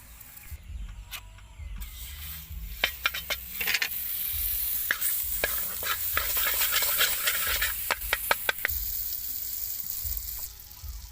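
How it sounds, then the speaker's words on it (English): Butter sizzles loudly in a hot frying pan while a Cambodian stir-fried dish is cooked, a steady hiss with scattered sharp clicks and scrapes of a utensil against the pan. "First we add our butter."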